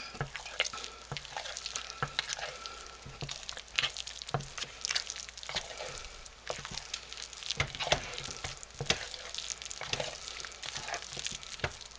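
A spoon stirs food in a pot, making soft, wet squishing and dabbing sounds with irregular light clinks, all close and fairly quiet, with no talk.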